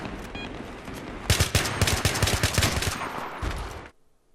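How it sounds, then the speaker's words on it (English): AN-94 rifle in Battlefield 3, fired in burst mode with rapid clicks: a loud, dense run of quick shots that starts after a quieter stretch and cuts off abruptly near the end. "I found it's actually better to use the burst fire mode and click quickly rather than holding down the trigger on full auto mode"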